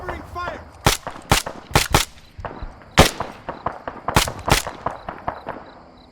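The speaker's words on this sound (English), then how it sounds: "Covering fire." Gunfire in the video game ArmA3 cracks out in sharp single and paired shots, loud and close, spaced irregularly over several seconds with a voice briefly heard at the start.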